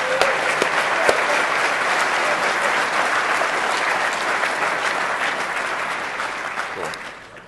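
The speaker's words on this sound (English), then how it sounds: "Clap. Clap." Audience applause fills a hacking conference hall, a steady dense wash of many hands clapping that holds loud and even for several seconds before tapering off at the end.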